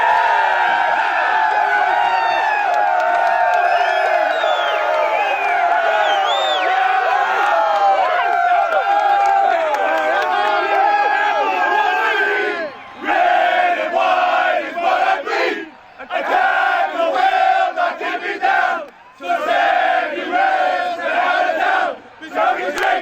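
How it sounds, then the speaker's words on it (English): A stadium crowd of over 7,000 roars and cheers at a Canada v USA match in Toronto. The cheering is loud and sustained, then breaks into shorter surges with brief lulls near the end. "The crowd is loving it every minute."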